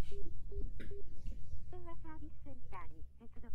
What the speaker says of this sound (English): He takes out his phone and calls up the number